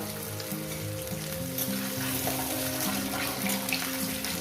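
Taro and potato fry in oil for a fish curry, with a continuous sizzle and occasional stirring under a steady tonal hum.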